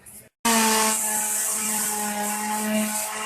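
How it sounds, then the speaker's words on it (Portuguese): Wood is sanded for finishing on a wooden barbecue cart. After a brief pause, a loud, steady abrasive whir with a humming tone starts abruptly and runs continuously, close up. "Depois vem com a lixa para dar o acabamento."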